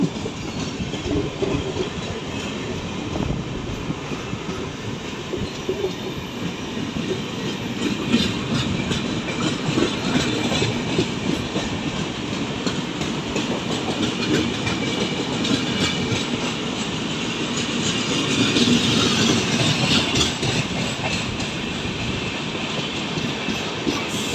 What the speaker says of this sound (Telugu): ఎర్నాకులం నుంచి ఇప్పుడు టాటానగర్ అయితే వెళ్తుంది ఈ ట్రైను